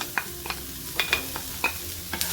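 Onion, coconut and garlic with cloves, peppercorns and cinnamon are dry-roasted in a pan, giving a soft steady sizzle broken by repeated scraping stirs at an irregular rhythm, close and fairly quiet with no talking.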